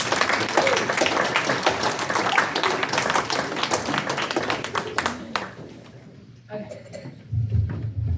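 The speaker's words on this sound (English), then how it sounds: "I think we should just give another applause to Chance." An audience at an Eagle Scout Court of Honor applauds Chance with loud, sustained clapping that fades out after about five seconds, followed by quieter room sounds and a few taps.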